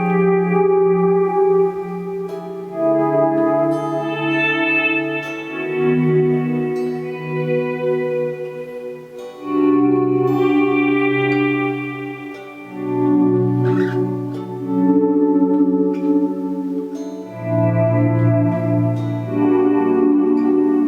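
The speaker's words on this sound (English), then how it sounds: "I'll use the volume pedal and I'll try to do like a swelling section of it" Electric guitar played with each chord fading in smoothly through a volume pedal and swelling into sustained, echo-washed harmonies, loud and close with no talking.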